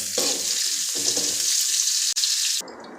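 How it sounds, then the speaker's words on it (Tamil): Onions and dried chillies sauté in hot oil, a loud bright sizzle with a few stirring scrapes over about three seconds, close by, before the frying noise drops away near the end. "2 காஞ்ச மிளகா, கட் பண்ணி வச்ச 4 வெங்காயம் போட்டு வதக்கிக்கலாம்."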